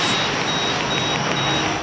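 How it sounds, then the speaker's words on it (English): Store security alarm going off, a loud steady electronic tone repeating in short pulses over a constant noisy hum. "Because the alarm went off"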